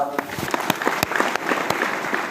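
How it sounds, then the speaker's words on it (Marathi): Audience clapping at a Marathi religious gathering held in a wedding hall, steady applause with a few sharper claps standing out across a couple of seconds. "त्यांच्यासाठी टाळ्या"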